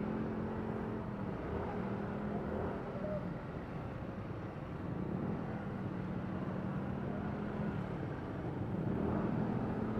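Busy Christmas-season street traffic in Vigan City: a steady, dense rumble of engines goes on for the whole stretch, with faint voices now and then.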